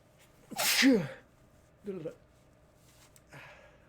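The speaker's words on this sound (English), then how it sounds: "I gotta sneeze again" A single close, forceful sneeze from a person getting over a cold, followed by a couple of softer, brief breathy vocal sounds in an otherwise quiet room.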